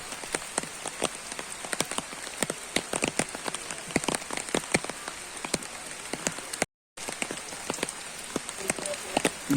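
Rain falls steadily in a village, a constant close patter with sharper drips striking surfaces throughout and one brief silent break.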